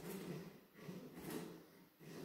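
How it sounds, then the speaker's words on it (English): Wooden chair creaking repeatedly during seated leg-strengthening exercises, with three rhythmic bursts of groaning, strained creaks close by. "Very creaky chair."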